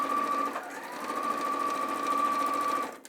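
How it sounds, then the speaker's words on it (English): Sewing machine stitching fabric for a Christmas bag project, a steady close mechanical whir with a tonal hum, running continuously for about three seconds before stopping abruptly. "sew across and finish with a reverse stitch"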